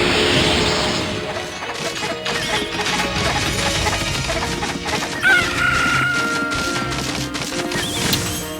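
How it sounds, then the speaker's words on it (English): A flock of chickens in the video game Okami HD clucks and crows, with overlapping bird calls over a music bed. Occasional sharp smacking hits break in, and no one speaks. "And I'm gonna feed these chickens. Look at all of them chickens."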